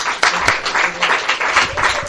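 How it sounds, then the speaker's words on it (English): A roomful of people at a retreat gathering applauds steadily, a dense patter of many hands clapping at close range, continuous for a couple of seconds. "I would like to give her another round of applause"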